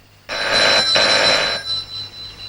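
A telephone bell rings in a Malayalam comedy film scene: one loud, close burst of ringing with a brief gap partway through, then it fades out.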